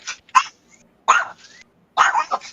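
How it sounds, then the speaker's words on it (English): A small dog, like a chihuahua, barks in three short bursts about a second apart, fairly close and moderately loud, with quiet gaps between. "There's the dog. Yeah, Sound like a little chihuahua."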